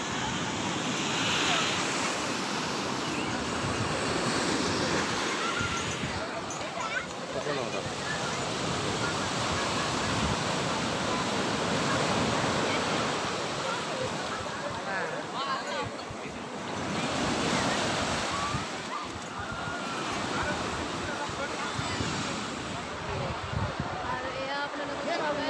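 Sea waves roll in on a beach with a continuous, loud roar of surf and gusting wind across the microphone, while voices talk faintly underneath.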